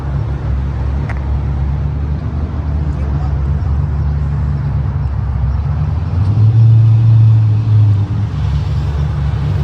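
A widebody Ford Mustang with an automatic gearbox idles with a steady low rumble, close by, swelling briefly louder partway through.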